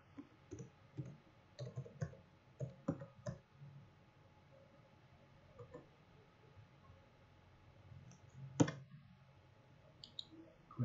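Crisp, faint mouse clicks tap out singly and in short clusters during setup of Dante controller software, spread across a quiet room with a few louder clicks near the end.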